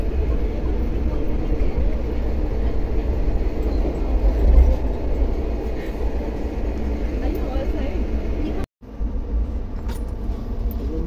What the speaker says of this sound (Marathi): आता आम्ही ट्रेन मध्ये आहोत.